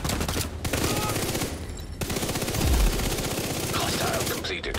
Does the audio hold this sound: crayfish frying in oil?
no